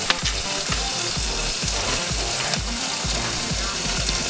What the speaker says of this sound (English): So we're just gonna keep stirring that, stirring the pasta, making sure that that doesn't boil over or burn